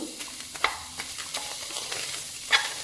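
Chopped onion sizzles steadily in a hot pan for a pea and potato curry, with soft scraping stirs throughout and a couple of sharper clinks of the spoon against the metal.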